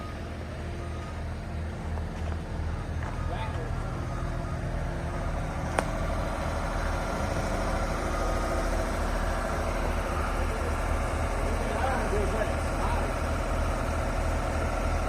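A skid steer loader's engine idles steadily nearby in cold, windy winter weather, a continuous low rumble with a faint sharp click partway through.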